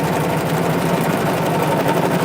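A sewing machine stitching details on a lace lantern, a steady, continuous mechanical whir with a close, even buzz running throughout without pause.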